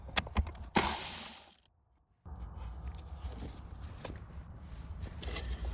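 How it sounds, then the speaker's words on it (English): A Milwaukee ratchet loosens a nut on the shifter cable of an FJ Cruiser during automatic transmission removal, giving a close run of quick metallic clicks and mechanical rattling with a short pause, then steadier working noise. "I'm just gonna loosen that with my Milwaukee Ratchet"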